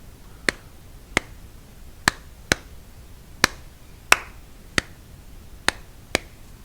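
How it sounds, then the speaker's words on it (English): Sharp, isolated clicks from sticks tapping or hands clapping along to a beat, about ten crisp hits in an uneven syncopated pattern, close and dry over quiet background. "I'm going to start tapping along. And you can get sticks and tap along with me, or you can get your hands and clap with me"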